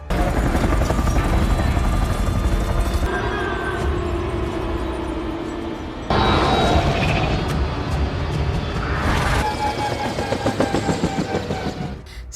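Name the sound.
helicopter flying in the film Rampage (2018)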